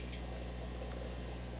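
Water pours steadily through an aquarium carbon filter as it is rinsed, a continuous close trickling and splashing with a low hum underneath and no talk.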